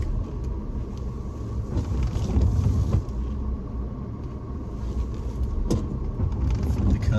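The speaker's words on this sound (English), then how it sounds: "That's the lovely thing about this car. It's a very small car," Small car's engine rumbling at low speed while parking, a steady close drone with faint road noise and occasional soft knocks.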